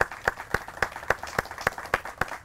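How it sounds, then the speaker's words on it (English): Audience at a community tree program event claps in steady rhythmic unison, about ten even beats in quick succession, moderately close, with no talking over it. "Round of applause for them as well."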